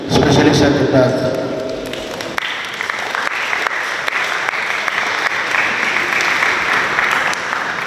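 An audience at a high school Jeopardy competition applauds specialists, sustained crowd clapping that follows a stretch of talking and carries on steadily to the end.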